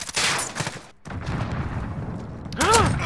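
A 680 shotgun firing incendiary rounds in Call of Duty lets off several loud, close blasts and rapid gunfire, with a brief lull partway and a voice briefly heard near the end.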